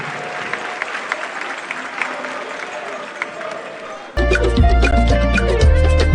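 Audience applause fills the hall at the NSMQ 2025 grand finale, a steady wash of many hands clapping that carries on for several seconds before loud music cuts in and takes over.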